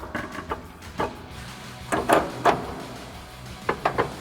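A Barricade Rubi rock rail is slid into place on a Jeep Wrangler JK, giving a series of short metallic knocks and scraping clunks spaced irregularly, close by and fairly crisp.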